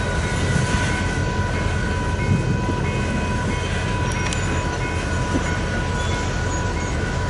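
A train rolls steadily past close by in Fremont, Nebraska, a loud continuous rumble of wheels and cars on the rails with a faint high squeal, no pauses and no talking.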